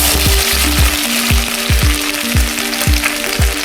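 Ginger dropped into hot oil already spluttering with mustard seeds and asafoetida, a loud, steady sizzle close by with repeated sharp taps and clinks of a spoon stirring the pan, no talking.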